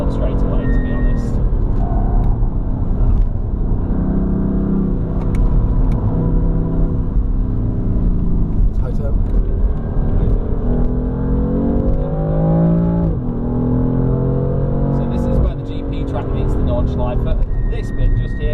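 A BMW M3 engine pulls hard around the Nurburgring track from inside the car, a loud, constant drone whose pitch climbs and falls with acceleration and gear changes.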